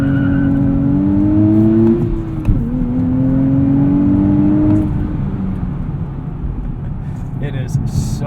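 A 2023 Nissan Z sports car engine drones steadily while driving, pitch climbing then dropping with a gear change, a constant close cabin hum with road noise.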